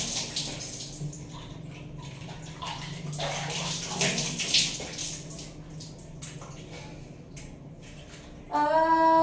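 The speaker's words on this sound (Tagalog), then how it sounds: "Maligo na po ako." Water from a shower running and splashing in a bathroom, a steady close hiss with shifting splashes as someone moves under the spray, ending in a brief musical tone.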